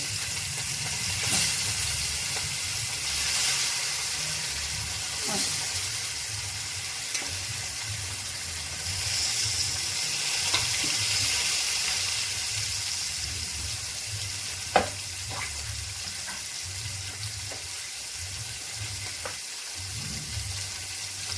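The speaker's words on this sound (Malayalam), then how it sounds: "അതിൽ നമുക്ക് അയല മീനിടാം എണ്ണ നല്ല ചൂടായിട്ടുണ്ട്" Mackerel frying in very hot oil for a fish fry, a steady close sizzle with intermittent crackles, pops and occasional stirring clatter, with no voices.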